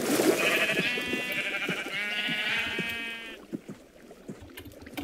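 Sheep bleating in Minecraft: a long, wavering bleat sounds loud and near for about three seconds, followed by quieter splashing and clicking sounds from the game.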